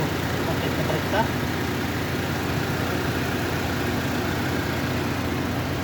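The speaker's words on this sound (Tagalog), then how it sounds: "Tahimik ang makina ito. Maganda ang makina ito." A Mitsubishi Lancer engine idles quietly and evenly, a low steady hum running throughout beneath someone talking nearby.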